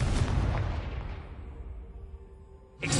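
A Confringo fire spell blast in a Harry Potter video game: a loud, broad burst that decays over a few seconds into a rumbling tail, with a fresh sharp hit arriving right at the end.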